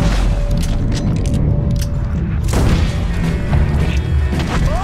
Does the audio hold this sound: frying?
no